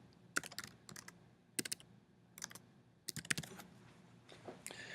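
Short bursts of typing on a computer keyboard, quick clustered key clicks separated by pauses, close and fairly quiet in a still room with no voices.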